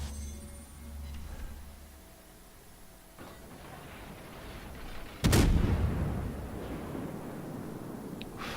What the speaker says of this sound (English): Full salvo.